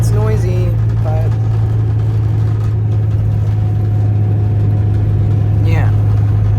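Inside a crowded city bus, a loud, steady low engine drone hums throughout while people talk over it.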